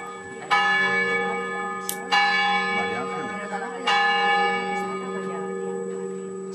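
A single church bell known as the castle bell rings from the south side of the bell tower in Castelfabib, Spain, sounding three loud strikes a little over a second apart, each leaving a long shimmering hum that decays slowly between blows.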